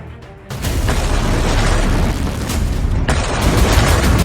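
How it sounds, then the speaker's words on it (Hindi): A loud drone explosion at the Barakah nuclear plant, a sudden heavy boom that swells into a sustained roaring blast and rumble. "यह ड्रोन धमाका बराकाह परमाणु प्लांट पर हुआ।"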